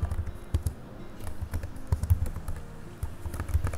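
Fingers tap out text on a computer keyboard, with quick irregular clicks and short bursts of keystrokes continuing close up, with no talking.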